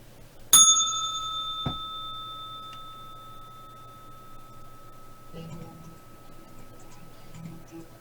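One clear, bright bell strike rings out and slowly fades over a quiet background, followed by a faint second tap.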